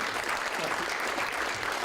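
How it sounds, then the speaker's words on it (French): Audience at an after-work conference applauding the speakers, continuous dense clapping from a room full of people, even and sustained with no voices standing out. "je vous demande d'applaudir nos intervenants, de les remercier."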